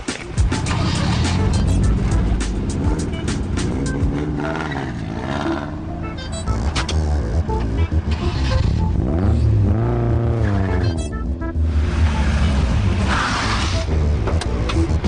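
Car drifting at a mountain touge spot, its engine roaring loudly and continuously with rising and falling revs throughout, heard up close.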